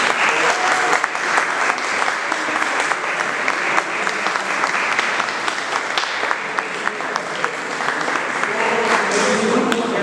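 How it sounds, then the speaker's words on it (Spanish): A loud, sustained round of applause from a crowd at a Marian lecture series, honoring a priest, with dense clapping throughout and faint voices mixed in. "Un aplauso para el Padre"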